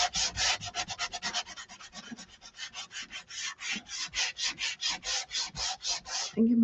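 Hand sanding of paint on a wooden sign, a quick, steady series of close, rasping back-and-forth strokes, about two dozen in a row, with a faint breath near the end.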